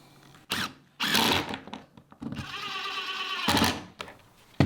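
Pocket hole screws being driven into a DeWalt outfeed saddle, with a powered driver whirring in short bursts and a longer sustained run, close and fairly loud, separated by brief pauses.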